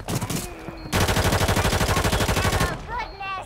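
Rapid automatic gunfire from the Call of Duty video game bursts loudly and continuously for about two seconds, preceded and followed by shorter shots and game sound effects.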